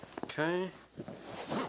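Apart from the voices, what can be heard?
zipper on sofa cushion cover with Poly-Fil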